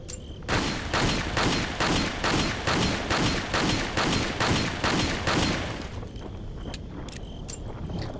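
Rapid gunfire in Resident Evil 4, aimed at a creature: a loud burst of evenly spaced shots for about five seconds, then a few scattered single shots and quieter game sounds.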